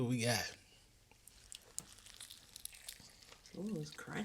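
Someone bites into a pickle-glazed crunchy fried chicken sandwich and chews it close up, with faint crunching and moist smacking between bits of talk at the start and end.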